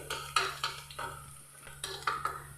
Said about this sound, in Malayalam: ഇനി ഇതിലേക്ക് നമ്മൾ തേങ്ങാക്കൊത്ത് ഒന്ന് മൂപ്പിച്ചങ്ങെടുക്കാം.